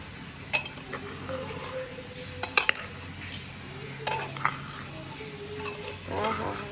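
Spoon scraping and clinking inside a pressure cooker while cooked no-onion vegetable pulao is stirred, several sharp metallic knocks and creaks spread over a few seconds, close and fairly quiet.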